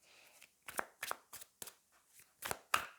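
Tarot cards are shuffled by hand in several quick riffling bursts separated by short pauses, each close and crisp against a quiet room.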